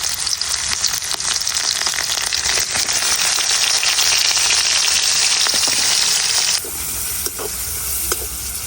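Garlic and onion hit hot oil in a pan already holding fried dried chillies, giving a loud, steady, close sizzle that dips slightly toward the end, with occasional light stirring clicks and no voices.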